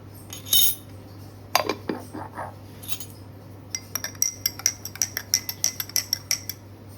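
A spoon stirring chia seeds into water in a glass, starting with scattered clinks and then a run of quick, evenly spaced metallic taps against the glass, close and fairly loud, with no talking.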